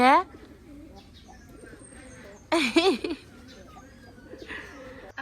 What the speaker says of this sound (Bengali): এই যে বাইরে এসে কবুতর আছে না কবুতর